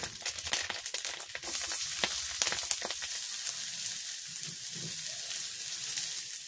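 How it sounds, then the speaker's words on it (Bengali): Onion dropped into hot oil in a village kitchen in Bangladesh, opening with crackling and spattering pops before settling into a steady, close, loud sizzle. "পেঁয়াজটা দিয়ে দিতেছি।"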